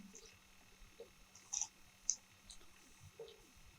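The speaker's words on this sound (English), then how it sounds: "Let's click in here." A computer mouse click, faint single clicks and ticks at close range over a quiet room hum, with no speech.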